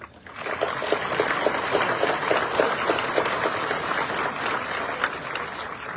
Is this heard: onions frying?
no